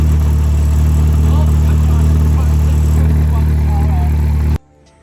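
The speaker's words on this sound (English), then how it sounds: "Exhaust leak." Cheap project car engine running with an exhaust leak, a loud, steady, rough drone with a raspy low rumble that holds for several seconds and then cuts off abruptly.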